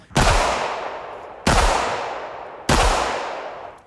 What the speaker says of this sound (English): He tried a .45 caliber handgun on the smallest shield